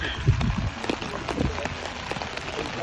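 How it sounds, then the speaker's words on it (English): Rain from a passing storm squall pours steadily in Key West during an evening sail, a dense hiss with scattered drop impacts and a few faint low thumps close by. "a little squall has came up, and it is storming right now"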